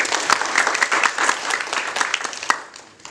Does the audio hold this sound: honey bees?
no